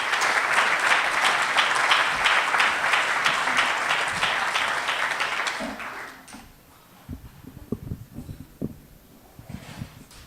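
An audience applauds to welcome a speaker to the stage: loud, sustained clapping for about six seconds, then fading to a few scattered claps and quieter room sounds.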